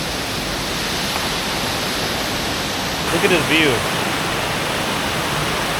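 Furongzhen waterfall in Furong Ancient Town, China, a steady broad roar of falling water filling the whole scene, with a voice talking briefly over it midway.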